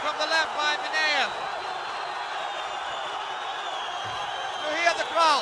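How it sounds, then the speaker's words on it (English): Crowd at an MMA bout between Magomed Ismailov and Vladimir Mineev roars in a sustained, loud wall of cheering and whistles, with a commentator's voice talking over it at the start and end. "You hear the crowd. They already gone mad."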